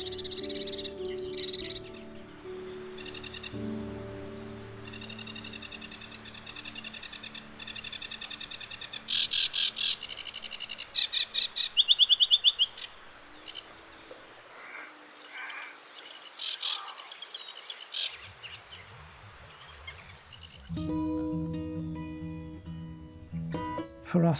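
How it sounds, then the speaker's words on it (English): A sedge warbler sings a long, loud, excited song of fast chattering phrases and varied trills, close by, with brief pauses between bursts. "this adult sedge warbler sat on what must be a favoured perch, singing its long, loud and excited song"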